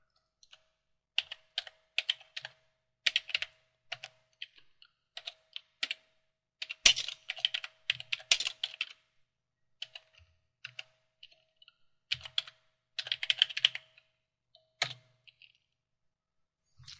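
Names being typed on a computer keyboard into a CorelDRAW print merge database, quick bursts of close, crisp key clicks separated by short pauses, loud against a quiet room with no talk.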